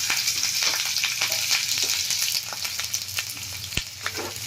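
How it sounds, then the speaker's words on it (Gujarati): Mustard seeds pop and crackle in hot oil, a steady bright sizzle with scattered sharp snaps running throughout, close up and with no talking. "રાઈને એકદમ સરસ ફૂટવા દેશું"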